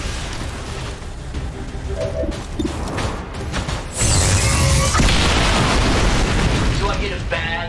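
An explosion in XCOM 2: War of the Chosen during a mission at the Hunter's stronghold: a sudden loud boom with a crashing burst that lingers as a heavy roar over the game's background sounds.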